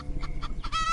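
A chicken clucks in a quick run of loud, close clucks that ends in a rising, drawn-out squawk, with no talking.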